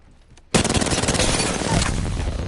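Sustained automatic gunfire from the Volt in Apex Legends erupts suddenly and loudly, a rapid continuous burst of shots with no pauses, following a brief quieter lead-in.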